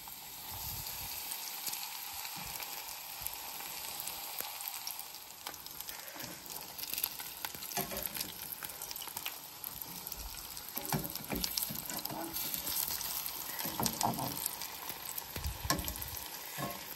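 Battered chicken pieces sizzling in hot oil for homemade fried chicken, a steady dense crackle and hiss that runs unbroken throughout with occasional sharper pops, close and moderately loud, no talking.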